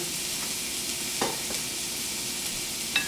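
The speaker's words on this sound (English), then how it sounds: "Just going to go ahead and give those a stir." Beans frying in a pan for a breakfast burrito sizzle steadily, with a few distinct scraping stirs of a utensil cutting through the constant close-up crackle.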